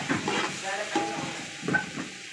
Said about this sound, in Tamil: வெங்காயம் வதங்கி இருக்குது.